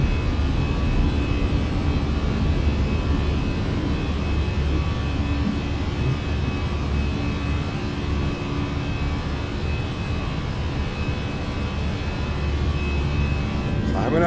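Jet engines of a Fenix A320 airliner climbing out of Gatwick in Microsoft Flight Simulator, a steady, loud, broadband roar that holds constant throughout.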